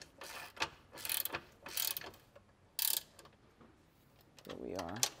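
Ratchet clicking while tightening a control arm bolt on a Mercedes-Benz W205, several short bursts of rapid clicks separated by pauses, close up, with a brief voice near the end.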